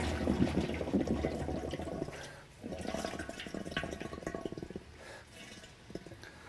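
Air blown through a hose bubbles steadily through water, a continuous burbling that pauses briefly partway through before resuming.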